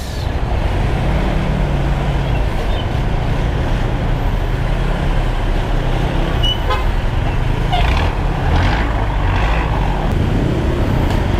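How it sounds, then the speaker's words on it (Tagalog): Dense road traffic with heavy congestion gives a constant loud engine rumble and road noise, broken by scattered car horn toots, while people talk in a moving vehicle. "Grabe traffic dito, di ba, guys?"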